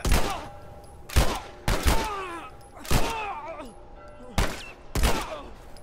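Gunfire in The Last of Us Remastered: several sharp, loud shots spaced about a second apart, each followed by brief clattering and echoing tails, with faint vocal sounds between them.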